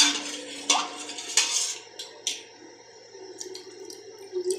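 A spoon stirs buttermilk in a bowl, giving a few sharp metallic clinks and light scraping, close and fairly quiet, with no voices.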